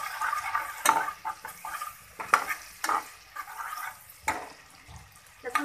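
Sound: crushed garlic sautéing in butter and oil

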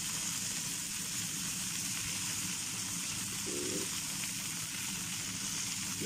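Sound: chicken pan-grilling and sizzling

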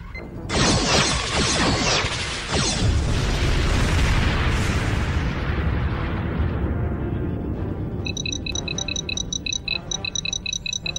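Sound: explosion of a rebel starship in a Star Trek fan production

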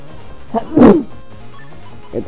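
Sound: sneeze

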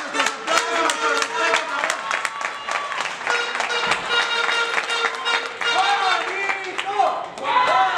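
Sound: wrestling arena crowd applause

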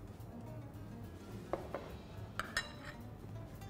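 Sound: mixing yogurt with spice masala in a bowl

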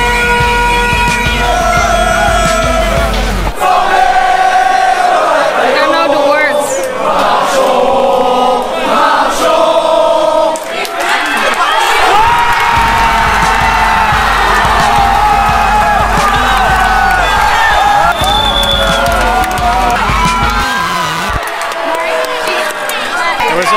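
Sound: crowd cheering in Paris streets on World Cup day

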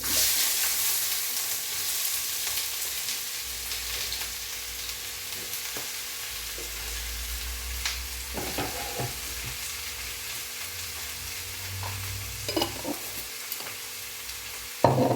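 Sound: frying ginger, garlic, green chilli and onion

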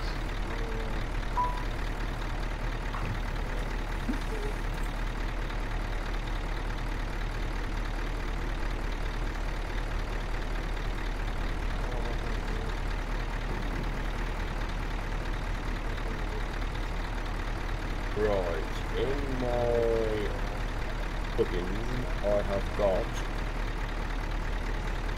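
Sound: truck engine in video game Euro Truck Simulator 2

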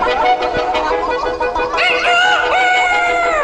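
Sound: rooster crowing

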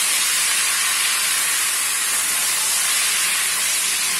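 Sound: chicken lightly frying in a karahi

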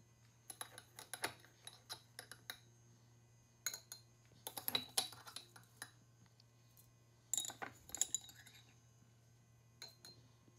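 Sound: tablespoon of herbs put into a glass mason jar with olive oil

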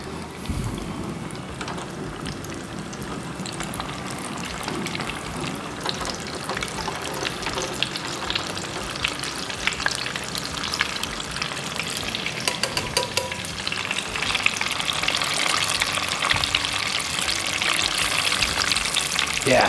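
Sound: mozzarella sticks deep-frying in hot oil

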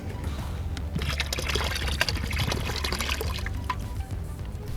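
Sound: motorcycle radiator coolant draining out

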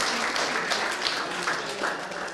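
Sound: studio audience applause for Domenico

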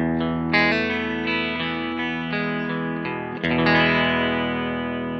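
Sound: clean electric guitar through tube amplifiers

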